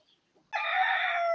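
A single loud crow from a native country-breed rooster starts abruptly and holds steady, close by, after a brief faint sound.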